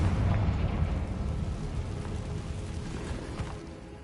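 Fiery blasting spell, Confringo, cast in Hogwarts Legacy inside an underground cave, a heavy rumbling burst loudest at the start that slowly decays and trails off with crackling debris.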